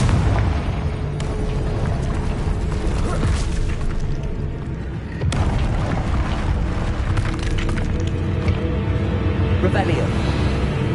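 A Confringo blasting curse goes off in Hogwarts Legacy with a loud, sharp explosion midway, set in a dense bed of rumbling game effects and spellcasting sounds.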